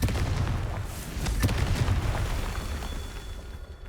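Confringo blasting spells go off repeatedly in Hogwarts Legacy, each burst a loud, punchy magical explosion with crackling debris that overlaps the next, then fades into a lingering rumble and quiet hiss.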